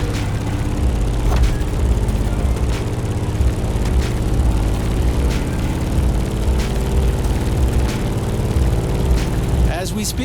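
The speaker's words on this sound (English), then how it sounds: "In the cockpit of a stunning Grumman F8F Bearcat, or simply the Bear." A Grumman F8F Bearcat propeller plane drones loudly in The Crew Motorfest, its piston engine holding a steady low rumble with faint clicks scattered throughout.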